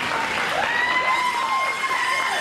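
A room full of people at a dance competition clapping steadily, loud and sustained, with faint whoops mixed in.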